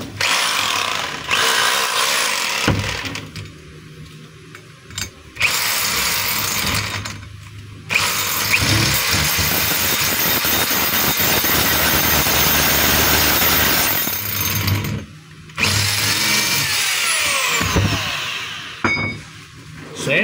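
A repaired DeWalt D25032 rotary hammer, fitted with a new spindle, lever, o-ring, collar, cord protector and plug, runs in loud close bursts of rapid hammering whine, stopping briefly several times between runs.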